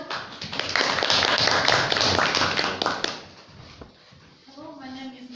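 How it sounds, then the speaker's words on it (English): Audience applause at a meeting, a dense burst of clapping for about three seconds that fades out, followed by a person starting to speak. "Applaud."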